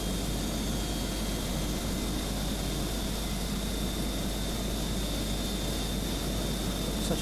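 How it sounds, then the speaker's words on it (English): The APU of an IniBuilds A300-600R airliner in a flight simulator runs with a steady, loud turbine whine and broad rushing hiss, unbroken and without talk. "So, APU's up and running."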